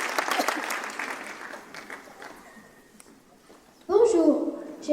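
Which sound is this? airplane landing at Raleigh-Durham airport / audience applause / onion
audience applause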